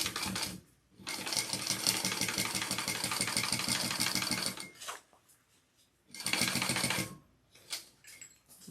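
Sewing machine stitching a backpack, a fast steady mechanical chatter running in two bursts, a long run and a shorter one, with brief quiet pauses between.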